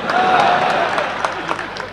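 An audience at a Hindi comedy poetry gathering claps, a short burst of dense applause with a crowd murmur, loud and near, lasting the full moment.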